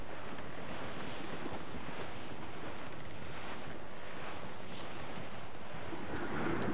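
Steady wind and rolling ocean surf at sea from Assassin's Creed 4 Black Flag, with the sailing ship in rough wind; a continuous broadband wash of waves and gusts, fairly loud and unbroken, with no talk.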